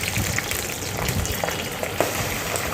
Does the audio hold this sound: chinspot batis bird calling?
no